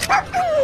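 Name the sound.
dog barking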